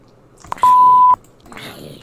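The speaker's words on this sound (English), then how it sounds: "it beeped" A single synthetic beep in Minecraft, one steady, loud electronic tone lasting about half a second, framed by faint clicks and soft background noise.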